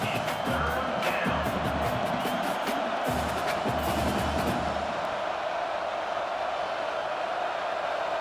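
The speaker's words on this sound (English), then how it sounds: "The roar of the crowd trying to fuel this defense to keep them pinned in their own end." A dense stadium crowd roars steadily in EA College Football 25 at Michigan State at Michigan, a broad, constant wash of cheering with some rhythmic low thumps early on, loud and unbroken throughout.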